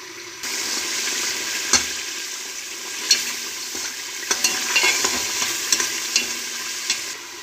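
Mixed vegetables with pickle masala frying and being stirred in a pan, a steady close sizzle broken by scattered spoon scrapes and clinks, no voices.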